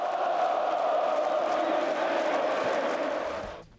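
A large crowd of Botafogo football supporters roars and chants together in a stadium, a sustained loud wash of massed voices that fades out at the end.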